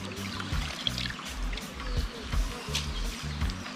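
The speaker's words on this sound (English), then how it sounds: "Strain off the water." Water strained off parboiled rice, a steady pouring and trickling wash that runs continuously and moderately close, with low rumbling thumps underneath.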